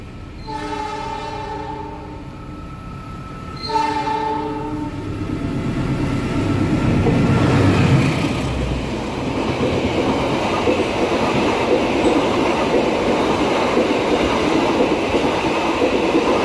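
The Argo Wilis express train from Surabaya passes straight through a station without stopping: two loud horn blasts, then a swelling roar and rumble of rail cars rushing close by with clattering wheels.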